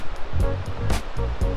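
A river rushes past forested banks along a trail, a steady broadband wash of moving water with rhythmic surges, fairly close and continuous with no voices.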